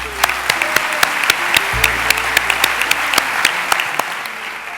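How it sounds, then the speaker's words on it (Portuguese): Audience applause at a medical graduation ceremony where the Hippocratic Oath is sworn in Braga, a loud, sustained crowd clapping with sharp individual claps standing out, and a faint low tone underneath. "Para todos vós, peço uma salva de palmas"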